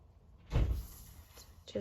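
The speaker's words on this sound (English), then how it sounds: "So sorry if you can hear doors slamming." A door slams downstairs in a house, one muffled, distant thud followed by a softer knock, heard faintly in an otherwise quiet room.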